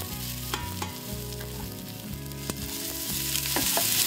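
Aromatics frying in a touch of sesame oil for a vegan dish made with coconut milk and cashew cream, with a steady close sizzle and spoon stirring and scraping throughout, growing slightly louder and brighter toward the end.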